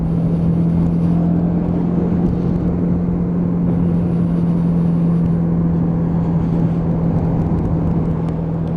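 Steady drone of a UM Commando Classic motorcycle cruising in traffic, a constant engine hum beneath heavy wind rush, continuous and unchanging.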